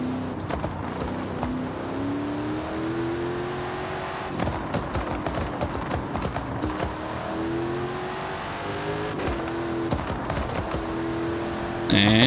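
Dragster engine in the racing game Forza Horizon 5 revving and accelerating through repeated gear pulls, rising pitch sweeps with brief shift breaks, loud and close, and someone talks now and then over it.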